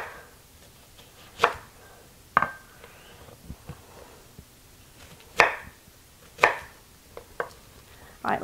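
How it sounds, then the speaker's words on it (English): A knife slices through cooked corned beef brisket on a board, producing about six distinct thuds spaced irregularly over a quiet background, with smaller taps in between and no voices. "And then I'm just going to cut it into 8 pieces."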